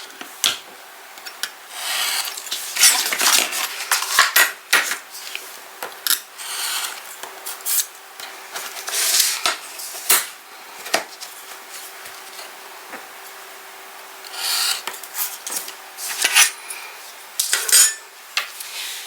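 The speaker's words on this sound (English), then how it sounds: "So I'm going to use my craft knife, and I am just going to cut off all of the corners." A craft knife cuts the corners off paper for a small Halloween scrapbook album, with a series of sharp, close scraping and slicing strokes that come in irregular bursts between quiet pauses, heard alone.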